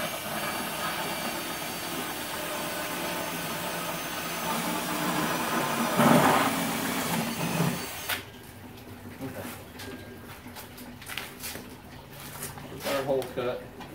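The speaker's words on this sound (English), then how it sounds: "3-inch hole saw bit here, like a 3-inch hole" A 3-inch hole saw grinds through a plastic lid with a loud steady buzzing whir for about eight seconds, then stops abruptly, leaving quieter handling noises and light clatter afterward.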